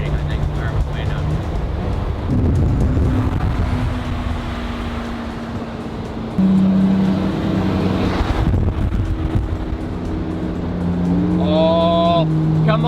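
A McLaren P1 supercar accelerates during a rolling run against a Ferrari F12, its engine note rising in pitch through the gears under heavy wind buffeting. Excited voices talk over it.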